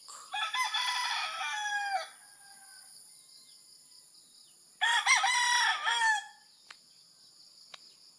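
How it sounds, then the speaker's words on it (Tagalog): Two loud rooster crows close by on a farm in the morning, each drawn out over a second or more, separated by a quiet pause with faint background chirps. "Mga tilaok ng manok."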